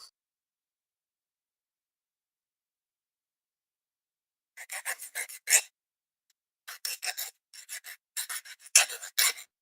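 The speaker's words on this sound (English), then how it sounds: "I'm going to take my file and file it" A metal file rasps across wire wrapped around a stone, in short close strokes that come in quick groups after a long silence, with brief pauses between the sets.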